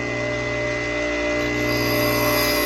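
A drill bit is ground against a spinning grinding stone to copy its factory angle, a steady loud whine with harmonic tones holding throughout, no voices.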